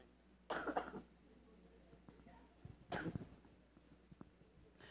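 Two separate bouts of coughing, each a short cluster of harsh coughs, with quiet stretches between them.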